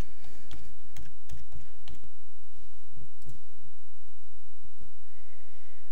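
A password is typed on a computer keyboard, a close cluster of clicky keystrokes in uneven bursts that tapers to a few isolated taps over a low steady hum.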